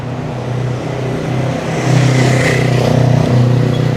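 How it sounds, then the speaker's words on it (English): A motorcycle engine drones and swells louder as it rolls past nearby, its steady rumble rising in the second half. "That was an actual motorcycle."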